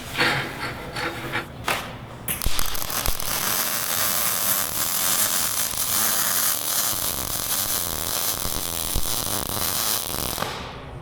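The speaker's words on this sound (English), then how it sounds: "That actually felt like a really good weld." Arc welding attempted without being able to see the seam: a loud, steady crackling hiss runs unbroken for about eight seconds after a short start, close up, with no voices.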